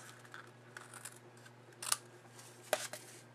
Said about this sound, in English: I'm going to trim away this